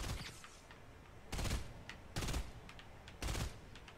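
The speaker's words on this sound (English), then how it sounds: "Okay, I'm already being shot at" Fortnite gunfire in three short, loud bursts of rapid shots spaced about a second apart, close and dominant over faint game ambience, with no speech.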